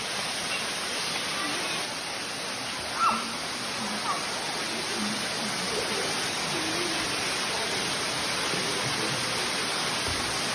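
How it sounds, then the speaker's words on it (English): Lower Cascade Falls waterfall at Hanging Rock, North Carolina, in summer mountain weather: a steady, broad rushing roar of falling water runs throughout, with faint voices briefly over it. "Lower Cascade Falls here in Hanging Rock, North Carolina."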